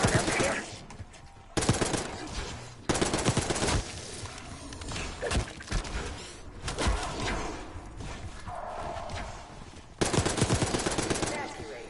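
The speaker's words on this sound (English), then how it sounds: "Hearing gunfire. Yeah, sounds like it's coming from one of the lower floors." In the Black Ops 6 video game campaign, gunfire comes in repeated loud bursts of rapid automatic fire broken by short quieter gaps, over a dense, noisy background.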